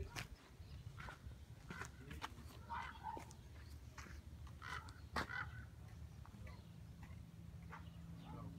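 Geese honk outdoors in a few short, scattered calls at moderate distance, mixed with rustling and soft footsteps over a low background hum.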